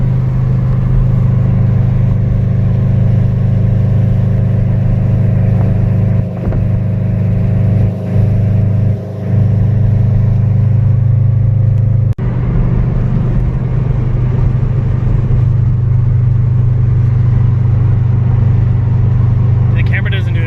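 Subaru BRZ engine held on 2-step launch control: a loud, constant low rumble with a few sharp pops and a shift in tone partway through, while people talk over it.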